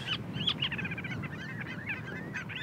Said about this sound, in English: We love the sound of the birds.